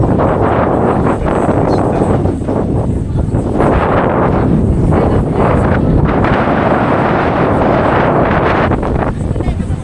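Heavy gusts of strong wind at Monte Maria buffet the microphone in a loud, continuous roar that rises and falls, drowning out most other sound.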